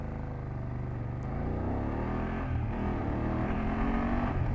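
A BMW F800GS motorcycle engine drones steadily and builds as the rider accelerates, its rising pitch heard fairly close with no talking.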